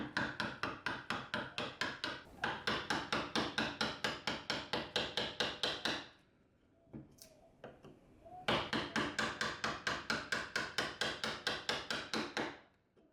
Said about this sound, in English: tilt the chisel at an angle, and strike it to remove 2 to 3 mm of wood at a time